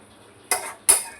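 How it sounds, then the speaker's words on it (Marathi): A metal lid goes onto a pot of cooking snake gourd bhaji, with two sharp, close clanks about half a second apart over a quiet kitchen background. "आणि थोडं झाकण ठेवून बघूया,"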